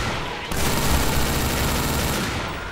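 Rapid sustained gunfire from an admin weapon in Garry's Mod, a dense, loud burst of automatic shots lasting over a second and a half before cutting off.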